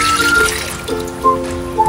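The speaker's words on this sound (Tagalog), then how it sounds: "Nilagyan ko po ng kaunting tubig para po hindi po siya matuok" Water is poured into a pot of pork estofado, a close, loud, continuous trickling pour with a few rising gurgles, no talking.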